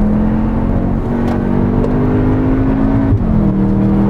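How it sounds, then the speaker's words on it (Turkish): Loud, close car engine revs and holds a steady drone, the pitch climbing slightly before dropping and settling again, with no talking over it. "Manyak ses geliyor arabadan."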